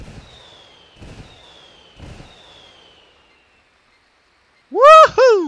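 An artillery barrage in Ghost Recon Wildlands, called in from rebel forces, lands as a few low distant thuds with faint whistles, then two loud close bursts at the end.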